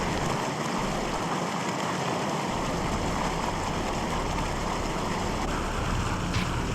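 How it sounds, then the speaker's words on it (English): Inside a submarine in Barotrauma, running water makes a steady, hissing rush that fills the space evenly without pause, like a constant flow close by. "Why is there still the sound of running water?"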